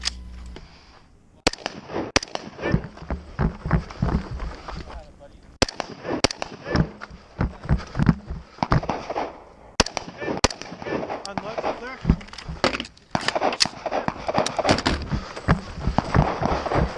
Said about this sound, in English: The shooter begins with 2 hits on rifle steel from each of these 3 positions.